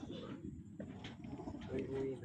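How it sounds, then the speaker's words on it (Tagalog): Racing pigeons coo at a race loft during a pigeon race in Carmona, Cavite, soft and fairly close under steady background noise, with people talking nearby. "Ito po yung ating ibon."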